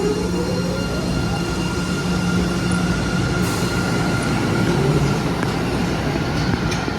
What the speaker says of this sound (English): There's the Wonderland train.